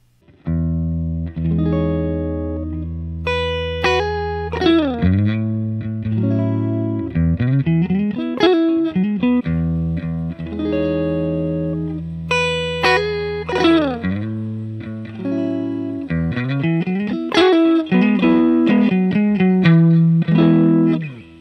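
Electric guitar through a Fuzz Face pedal, thick buzzy fuzz distortion, plays a riff of sustained chords and single notes, loud and alone with no talking.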